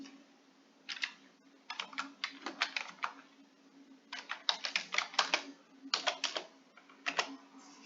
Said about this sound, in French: Je tape donc le mot de passe que je choisis.